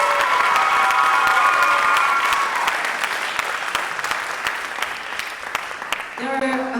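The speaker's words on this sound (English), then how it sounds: "Let's have one final round of applause for everyone who performed tonight" Loud, sustained applause from a recital audience thanking the student performers at a high school senior recital, dense clapping with some cheering that thins slightly before voices return at the end.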